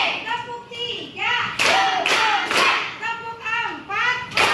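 A classroom of children runs through a rhythmic clapping routine, sharp hand claps landing in steady beats between loud chanting voices.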